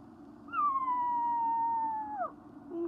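A dog lets out a single long, steady howl that slides down at the end, loud and close, with a low background hum behind it.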